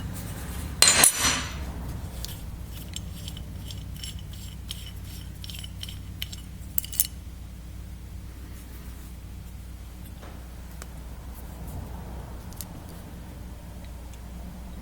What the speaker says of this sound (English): Here I got a 1-inch wrench. We're going to take the power valve out.